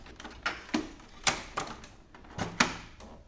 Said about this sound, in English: Open the cover of the printer.